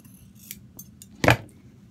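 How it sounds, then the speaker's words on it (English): A single sharp snip of scissors cutting thread between stitches on a fabric mask, preceded by a few faint small clicks, close and otherwise quiet. "now I'm going to snip between those 2 to separate"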